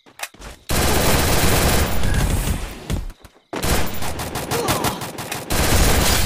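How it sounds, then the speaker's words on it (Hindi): Intense gunfire comes from two directions in a battle royale shooter on the Bayfront map: long, dense automatic bursts that are loud and close, broken by two brief pauses. "दो तरफ से गोली पड़ रहा था मुझे।"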